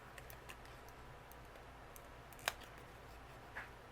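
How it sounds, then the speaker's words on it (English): A pair of scissors snipping apart paper flower die cuts for a cardmaking project, with one crisp close snip and a second softer cut against quiet room background. "this just takes a couple little snips and you can separate these flowers"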